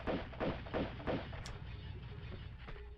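Gunfire from Tomb Raider 2 at the Great Wall as spiders are shot, a rapid series of about four heavy booming shots followed by a steady rumbling game background.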